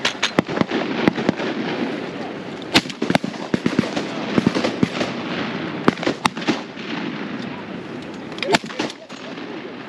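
Shotguns firing while hunting diving ducks such as canvasbacks, with repeated sharp bangs scattered irregularly over outdoor background noise, some near and loud, others fainter.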